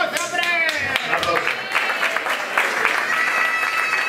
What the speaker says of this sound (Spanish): Bueno, un aplauso, hombre.